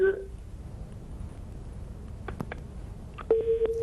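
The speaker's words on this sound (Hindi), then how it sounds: "लाइन ड्रॉप हो गई" Telephone line tones after a dropped call during a Pakistani news broadcast: faint tone blips, then a steady busy signal near the end, heard under a low background hum and broadcast chatter.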